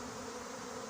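A swarm of honeybees buzzes steadily around a raised cardboard box during a swarm collection, a faint continuous drone with no break.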